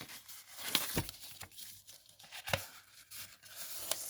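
Glittered paper being folded by hand into cracker bases, with close, crisp crinkling and tearing-like rustles in short bursts and sharp creases at irregular intervals, no talking.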